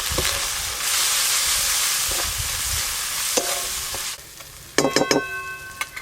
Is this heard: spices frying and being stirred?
yes